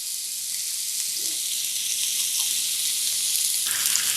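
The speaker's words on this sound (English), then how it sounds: "Listen to that sizzle." Steak searing in a hot cast iron pan, giving a steady broadband sizzle that holds at an even level throughout, with no voices.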